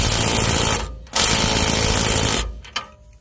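An impact wrench on a 21 mm deep socket removing an outer tie rod nut, loud rapid hammering bursts close by, cutting out briefly and then ending with a few short rattling hits.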